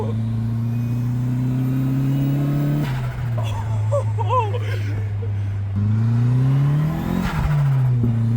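Turbocharged Mazda Miata engine on its lowest boost drones from inside the car as revs drop, hold steady, then climb again, with a faint whistling whine in the middle.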